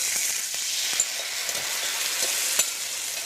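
Duck breast (magret de canard) sizzling over very low heat in a pan with its sauce, a steady close crackle with a few sharper pops, no talk.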